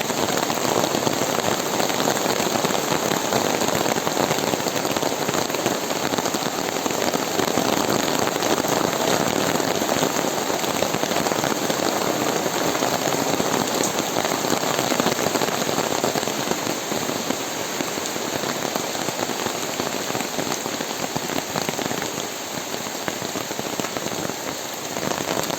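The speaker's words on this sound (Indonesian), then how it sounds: "Namun di sini hujannya begitu deras ya." Heavy rain pours steadily over a rural village, a dense, continuous roar of drops drumming on surfaces close by, with no talking throughout.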